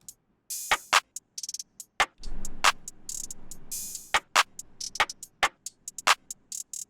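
Trap drum layers of claps, rim shots and an open hi-hat play together in a melodic trap beat: loud snapping claps and rims over sizzling hat washes and quick ticks, in a steady syncopated groove with no voices.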